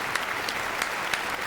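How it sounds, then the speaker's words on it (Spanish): Studio audience applause for a doctor during a broadcast program, a steady, dense wash of clapping from many hands heard alone for a brief moment. "te despedimos con este gran aplauso"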